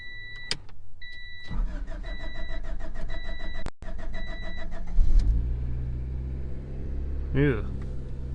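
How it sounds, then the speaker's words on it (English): A cold Tornado EM1 car cranks over for a while with a rapid, regular starter whir, then catches and settles into a steady low idle, with a chime and a short mechanical whine around it and no talk over it. "She did take a while to crank over, oddly."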